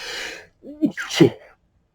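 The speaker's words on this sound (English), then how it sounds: "Apparently I have to sneeze." A sharp sneeze, preceded by a quick inhaling gasp and a short breathy exhale, close and fairly loud, with nothing else around it.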